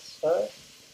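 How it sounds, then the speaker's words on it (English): King prawn curry with base gravy in a pan gets a quick stir, one brief scraping swish over a faint background sizzle. "Give that a stir."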